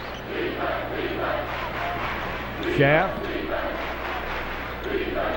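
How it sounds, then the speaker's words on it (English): Crowd noise from a packed gym at a high school basketball game between New Trier and Highland Park, a steady murmur with a brief swell of cheering, heard under continuous play-by-play commentary. "Big crowd for both schools here."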